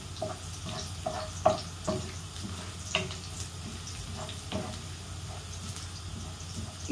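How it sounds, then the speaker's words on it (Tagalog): Onion frying in a pan with browning bitter gourd (ampalaya) for an egg omelette, a steady soft sizzle with occasional clicks and stirring scrapes, close and fairly quiet. "Pag medyo brown na, isusunod ko na ang sibuyas."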